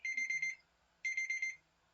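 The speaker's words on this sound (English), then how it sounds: "Oh, that's my alarm." An electronic alarm beeping in two short bursts of rapid, high-pitched tones separated by a brief pause, fairly faint and with no talking.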